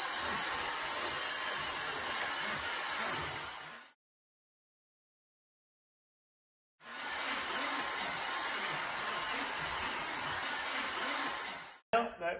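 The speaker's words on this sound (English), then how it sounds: "What we use to clean this is simply a vacuum cleaner." A vacuum cleaner roars loudly and steadily while it sucks dust from a dusty return air filter, cutting out for a few seconds in the middle before starting up again at full strength.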